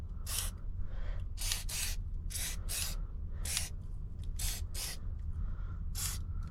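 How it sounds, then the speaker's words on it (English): WD-40 aerosol sprayed onto the leather seat of a 2019 Mustang GT in a rapid, irregular series of about a dozen short, close hissing bursts over low background noise. "Maybe I can spray a little bit more, but not much I can do because it's kind of hard to reach the seat"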